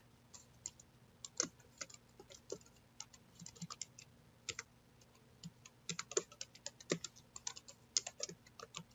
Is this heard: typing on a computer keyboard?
yes